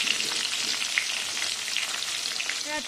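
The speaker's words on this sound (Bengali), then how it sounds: "এখানে করছি আমি আমার বেগুন ভাজা।" Eggplant slices (begun bhaja) frying in hot oil in a pan, giving a steady, dense crackling sizzle close by throughout, with no talking.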